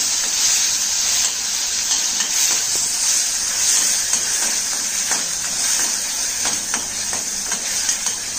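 Ginger garlic paste sautéing in a pan for kadalai curry, a steady bright hiss and sizzle with occasional scraping stirs, close and continuous, with no voices.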